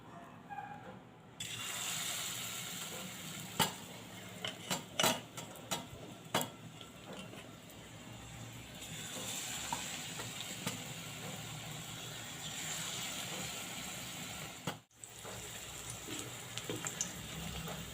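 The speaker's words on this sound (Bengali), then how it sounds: "একটা একটা করে আলুর গায়ে কোটিং করে আমি ভেজে নেব আলুগুলো।" Batter-coated potato pieces fry in hot oil in a wok, a continuous sizzling hiss with occasional sharp clicks and clatter of utensils, no talk.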